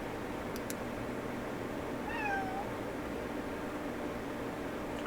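A pet cat named Fonzie gives a single short, rising meow over a steady background hum of fan-like noise indoors.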